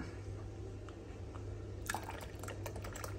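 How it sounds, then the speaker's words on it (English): Coffee pours from a Tower 10-cup drip coffee maker's glass pot into a cup: after a low steady hum, a soft trickling splash starts partway through, faint and close. "Pour my first cup."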